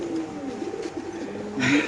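Racing pigeons on a pigeon farm give a few soft, low coos, with a louder burst near the end over a murmur of background activity and faint voices.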